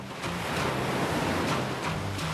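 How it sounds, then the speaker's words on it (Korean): Rough sea waves surge and break off Moseulpo on Jeju in strong wind, a steady, noisy wash of surf with a few swells rising and falling over a couple of seconds. "모진 바람 부는 모슬포 앞바다. 사나운 파도가 무서운 기세로 달려듭니다."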